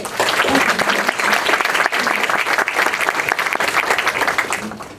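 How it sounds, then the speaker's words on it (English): A conference audience at a local government event claps for a panel, a dense, steady burst of applause from a roomful of people lasting several seconds. "I want to give another round of applause for a great panel, great expert presentation"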